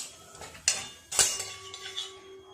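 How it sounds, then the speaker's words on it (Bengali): Whole cumin seeds stirred in hot oil in a pan while making a vegetarian filling for Bengali banana-flower chops, two sharp metal spoon clinks against the pan over a soft, steady background sizzle, close and with no talking. "জিরেটা একটু নেড়ে চেড়ে নেব।"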